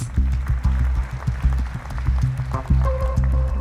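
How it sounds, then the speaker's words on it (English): A studio audience claps and cheers in a loud, steady burst of applause for teams at a competition show's grand final, layered over rhythmic background music with a few tonal stings near the end. "let's give them a round of applause"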